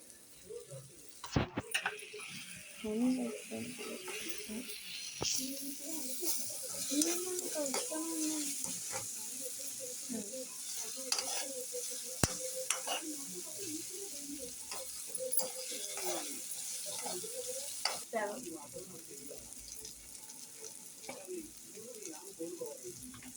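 Ginger garlic paste sizzling steadily in a pan while tomato rice is cooked in a home kitchen, a soft continuous fry with occasional stirring clinks and a voice speaking over it.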